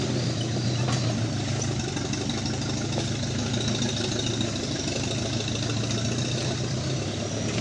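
A car engine idles steadily through a palm oil harvest, its low continuous rumble at moderate level with no talk over it.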